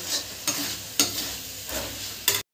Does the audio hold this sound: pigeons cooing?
no